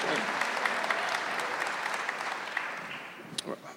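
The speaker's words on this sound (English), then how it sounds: "That question deserves applause." Audience applause at a 2019 presidential candidates' forum: a dense, loud wash of many clapping hands from a large crowd, slowly tapering off near the end with a few last claps.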